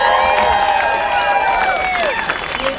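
Crowd cheering and applauding at an outdoor evening concert at the Waikiki Shell amphitheater in Honolulu, a loud continuous roar of clapping mixed with whistles and high shouts.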